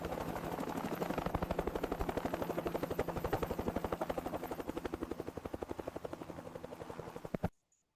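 Rapid rhythmic helicopter rotor thumping, loud and steady for about seven seconds before cutting off abruptly, with no voices.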